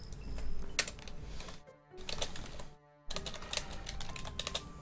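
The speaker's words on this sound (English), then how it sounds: "Just typing in the chat." Rapid keystrokes clatter on a computer keyboard during a pause in an online strategy game match, loud and close in uneven bursts, stopping twice briefly before resuming.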